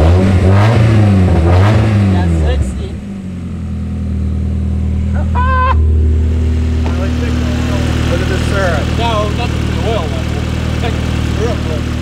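A car engine run on maple syrup in place of engine oil revs steadily and loudly through the clip after an opening burst of voices, holding a sustained drone while people talk over it.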